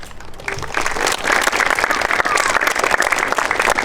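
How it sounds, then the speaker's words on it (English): A school audience breaks into applause honoring military veterans, the clapping swelling after a brief quieter start and holding steady and full, with faint voices beneath. "Please join us in celebrating and giving a round of applause for Mr. Joe Garcia, a campus safety officer"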